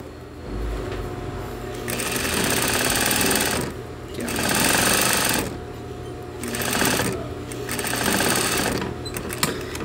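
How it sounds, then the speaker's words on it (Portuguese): A sewing machine runs a straight stitch with doubled thread to reinforce a zipper seam, sounding in four bursts of rapid needle chatter separated by short pauses; close and fairly loud, no speech. "Ó, overlock não, costura reta."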